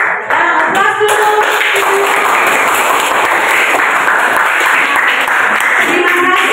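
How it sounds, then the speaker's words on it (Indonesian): Classroom applause after a student presentation, a burst of many hands clapping close and loud for several seconds, with voices mixed in at the start and end. "Aplaus dulu."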